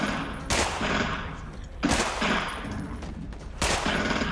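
Gunfire in the zombie shooter game Contagion: three sharp, separate shots spaced about 1.5 seconds apart, fairly close and punchy, with faint game ambience between them.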